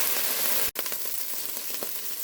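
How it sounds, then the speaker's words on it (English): Garlic and chili paste fry in a pan for hot and sour soup, giving a steady, close sizzle with one sharp clatter from stirring partway through. "When the garlic looks like it's starting to brown, we're going to add our chili paste, and we're going to stir this."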